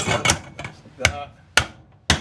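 Honda GL1100 motorcycle fork part tapped into place, four or five sharp metallic knocks spaced irregularly, close and loud with short ringing tails.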